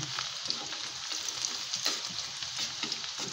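Garlic fries in oil in a pan, browning for a Filipino stir-fry, giving a steady, close, moderately loud sizzle with faint crackles throughout and no talking.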